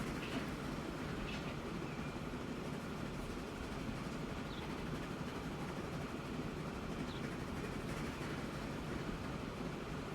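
Trains running in the video game Transport Fever 2, a faint, steady rail rumble with light rolling noise and a few brief high tones, continuous and alone without talk.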